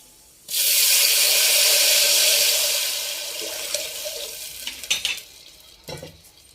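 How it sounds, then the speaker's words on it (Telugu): Water gushes suddenly into a pot of roasted lentils, a loud rushing pour lasting a few seconds that tapers off into gentle sloshing, stirring clinks and small splashes, nearby and with no talking. "ఇప్పుడు వాటర్ పోద్దాం"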